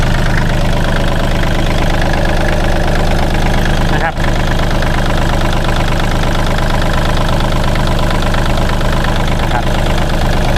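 A 2008 Kubota L3408DT tractor engine idles steadily and loudly up close, a constant low mechanical drone with no breaks; the engine has worn piston rings and was rebuilt.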